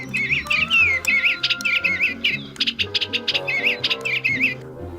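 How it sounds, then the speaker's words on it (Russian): A cartoon bird sings in bright, warbling chirps and trills in quick repeated phrases, loud and close over soft background music, with no talk. "Правильно, поет птичка."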